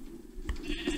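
Sheep bleating in the Minecraft video game, a short bleat from a brown sheep in a survival world, heard once or twice within a second at moderate level over faint background game ambience.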